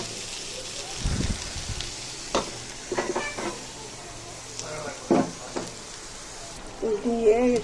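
Fried potatoes tipped into meat cooking for a homemade biryani, giving a few short sizzling bursts and stirring clatters against a quiet background, with some talking in between.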